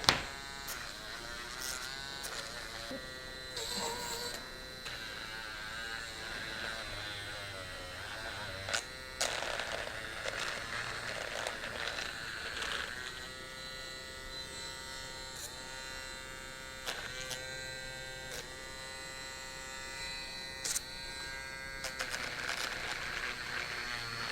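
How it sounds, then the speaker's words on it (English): A handheld electric sander held lightly against leather sandals during shoemaking, giving a steady buzzing whine that shifts in pitch as pressure changes, with brief louder touches throughout. "You want to get that sander, you want to hold it kind of light."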